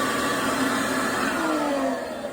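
Shop vacuum drawing air through a home-made flow bench while a GT40P cylinder head is tested, a steady loud whooshing drone that holds evenly throughout with no talking.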